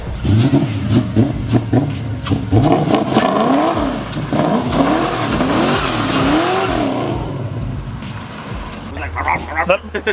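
A modified car engine revs up and down repeatedly through an aftermarket exhaust with a throaty note, loud and close, while people talk over it.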